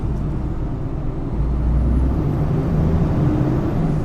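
A cold heavy truck engine labours steadily with a deep, rumbling drone, revving as the truck pulls away, loud and close throughout.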